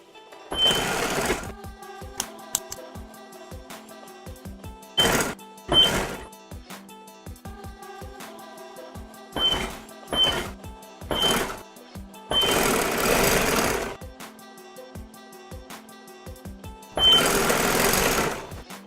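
A sewing machine stitches piping along the cord on car seat upholstery, running in short and longer bursts of rapid mechanical chatter separated by pauses, with quiet clicks and handling sounds between runs.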